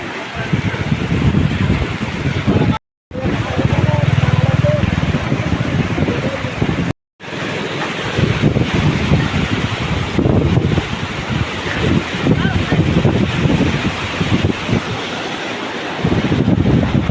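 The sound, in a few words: flooded river water rushing after heavy rain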